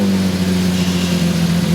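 A Lamborghini Murcielago GT1 road car engine in quiet mode runs nearby with a steady, deep droning hum, loud and even throughout, with no speech.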